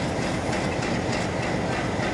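A steady, dense rumble of a train engine throbbing close by in Peru, on the route to Cusco, continuous and loud with no voices.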